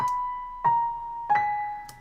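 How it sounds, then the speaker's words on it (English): Sustained tones from a Yamaha grand piano software instrument in Logic ring out, a new note struck roughly every two-thirds of a second, each one bleeding into a long, washy reverberant tail from heavy reverb. "It's just a piano with a lot of reverb."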